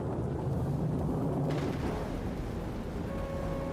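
Deep rolling thunder rumbles through a racing video game, a loud, sustained low boom filling the whole stretch with a brief crackling burst partway through.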